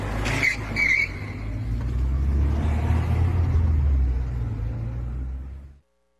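A car rumbles and accelerates along an avenue, running over dozens of crosses, its engine drone loud and steady before cutting off abruptly, with a brief higher squeal at the start.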